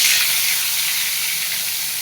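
Hot oil sizzles in a wok as fish goes in to fry, a steady, close, bright hiss that holds evenly for about two seconds with no voices.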